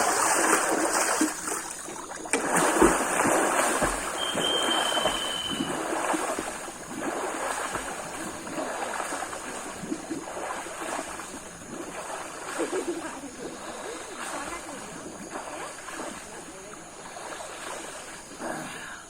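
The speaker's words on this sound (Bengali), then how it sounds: "নেমে গেলাম পুকুরে, কিছুক্ষণ সাঁতার কাটি।" A person swimming in a pond, with continuous close splashing and sloshing water that stays busy for the whole stretch, a few sharper slaps early on.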